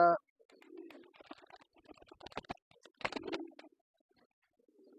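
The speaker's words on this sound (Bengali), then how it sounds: "এই যে বিটি হোমা কবুতরটা" Homer pigeons on a pigeon farm giving soft, low, throaty coos in a few separate bursts, close by, with light rustling and shuffling in between.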